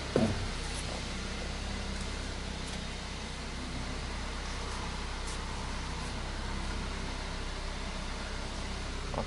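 Toyota Fielder on a test drive, heard as a steady low engine drone with road and wind noise filling the cabin evenly and no voices.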